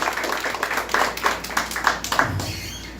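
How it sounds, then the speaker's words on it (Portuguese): An audience at a gathering in Fortaleza claps for a man being seated at the head table, a close burst of hand claps that thins and fades toward the end. "As palmas para o Hudson mais uma vez."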